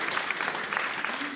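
Audience applause at a graduation ceremony, a steady dense patter of many hands clapping together, loud and close, lasting through the short moment.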